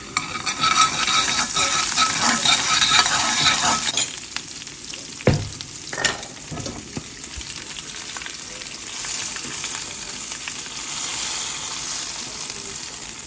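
Garlic frying in a pot of oil gives a loud, steady sizzle that drops off after a few seconds, then comes back quieter with scattered clinks and stirring scrapes; nobody speaks.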